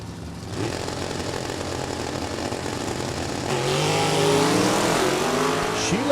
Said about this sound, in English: Sheila May, ripping and stepping on that 4-speed Chevy 2.